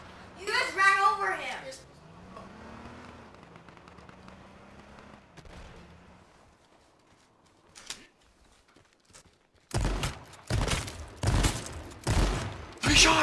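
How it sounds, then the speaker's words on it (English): Gunfire in a video game: a burst of loud, sharp shots rings out in quick succession near the end, after stretches of voices talking over quieter game sounds. "Three shots!"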